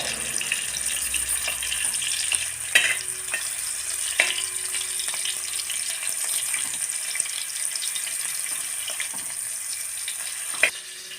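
Paneer stir-frying in a pan, a steady soft sizzle with occasional sharp clinks of a utensil against the pan, moderately quiet and close.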